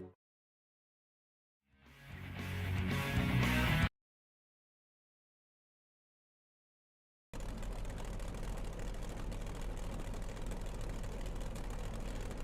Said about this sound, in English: You can hear the engines rumbling there.